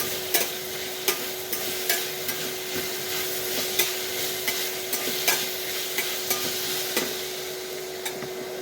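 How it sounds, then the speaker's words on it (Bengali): Food being stirred and fried in a pan, a continuous sizzle broken by regular clacks and scrapes of a spoon against the pan, moderately loud with a faint steady hum underneath and no talking. "ওকে, এখন নাড়তে থাকি, আরও ভাজিয়ে নিয়ে।"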